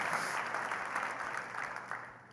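Church congregation applauding together, a steady broadband wash of clapping that holds at moderate level for a couple of seconds and slowly tapers off.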